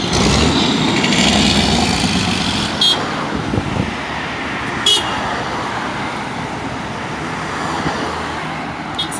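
A car drives over an unelevated road median near a crash hot spot on Hagley Road, heard through loud, continuous traffic noise, with brief horn-like bursts and passing vehicles.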